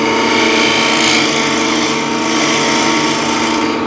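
A woodturning gouge cutting a full bead on crossgrain wood spinning on a lathe, a loud, continuous close-up whirring and rasping hum with a steady motor tone underneath and no talking.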